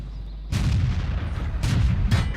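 A Churchill VII tank's main gun fires in the game World of Tanks, three heavy booming shots ringing out at irregular intervals over a low engine rumble.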